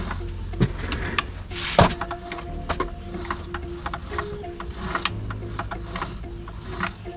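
Hand-turned motor and piston gear of a mini air compressor give off a busy run of small mechanical clicks and ratcheting rattles, with one sharper knock, all close by and no talk.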